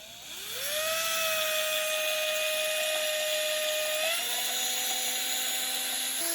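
A high-pitched electric drill whirs steadily for several seconds, whipping dalgona coffee, its tone dropping slightly partway through as it spins through liquid, close and loud.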